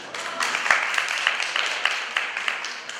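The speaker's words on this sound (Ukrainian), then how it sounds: "Ще раз вам всім аплодисменти." An audience at an award ceremony for district informatics olympiad winners applauds, a dense, steady patter of many hands clapping at moderate loudness with some sharper individual claps standing out.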